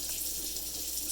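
Warm tap water runs steadily into a cooking pot, filling it for boiling pasta; a constant, close, even hiss of flowing water with no talk.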